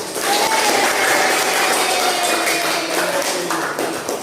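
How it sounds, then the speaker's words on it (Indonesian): A classroom of vocational computer-networking students applauds at the end of a lesson, a steady dense patter of hands lasting several seconds, with a thin whistle-like tone running faintly through it. "Mari kita tepuk tangan."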